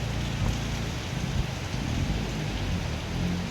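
Rain falls steadily over Cambodian farmland after a dry spell, part of a downpour lasting more than an hour: a dense, even hiss with no breaks and a low rumble underneath.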